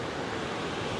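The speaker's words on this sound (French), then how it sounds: "la houle, comme vous pouvez voir, elle est très très légère, pas de grosses vagues" Light ocean swell with small waves washes at the shore in western Réunion, a soft, steady rush of surf with some wind noise on the microphone, faint and continuous through the brief moment.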